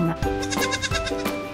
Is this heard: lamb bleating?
yes